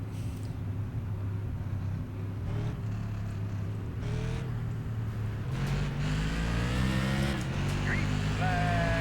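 Tour Modified race cars at Martinsville in iRacing roar as the pack builds engine revs, a steady droning pitch that climbs and swells louder toward the end, with someone talking over it.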